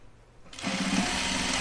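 A sewing machine stitches a shirt seam on a button-up garment, starting after a brief quiet pause and then running steadily and close-up with a continuous motor whir and a rapid needle rhythm.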